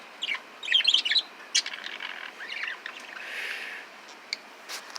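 Pet birds perched outdoors on added porches chirp and tweet in short bright bursts, a cluster of quick calls early on followed by scattered single chirps and a softer trill, moderately close with no talking.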